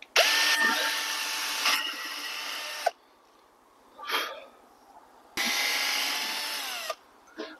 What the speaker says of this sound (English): So I'm going to drill two holes through here, straight through, put bolts in